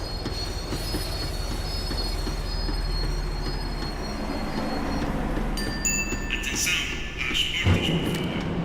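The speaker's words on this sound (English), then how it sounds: "The tram was slowing down, and I'd only just gotten on board." Tram wheels squeal and grind on rails as the tram slows down in the video game Max Payne 3, a steady loud rolling rumble with high screeches, building into sharper metallic squeals near the end, with game dialogue underneath.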